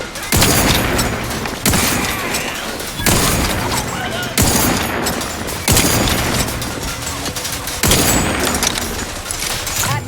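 Gunfire in The Outer Worlds 2 comes in loud, close bursts roughly every one to two seconds, each a dense crackling volley, with faint voices underneath.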